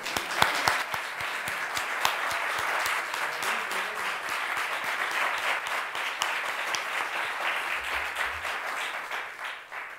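Sustained audience applause at a book fair event honoring a teacher, dense steady clapping from a large crowd lasting throughout without pause.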